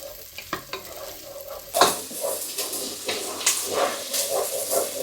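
Onion dropped into heated oil in a soup pot, a sudden surge of sizzling and hissing after a brief quiet start, followed by uneven crackles and stirring scrapes, close and moderately loud.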